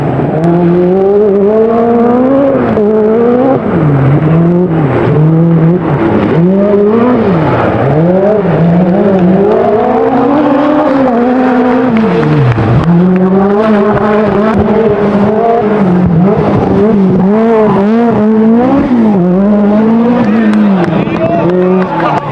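A Peugeot 205 T16 Group B rally car engine revs hard and repeatedly, its loud, close pitch climbing and dropping in quick surges for over twenty seconds without a break.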